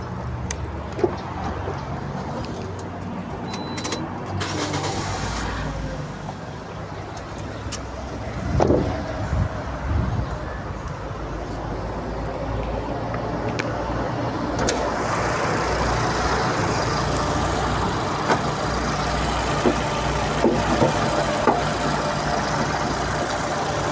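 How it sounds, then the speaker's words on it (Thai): An LPG taxi's engine turns over and settles into a steady idle, a low rumbling hum with occasional knocks and clicks nearby, no voices. "เดี๋ยวจะพามาชมภายในห้องเครื่องนะครับผมลองสตาร์ทให้ฟังเครื่องดู"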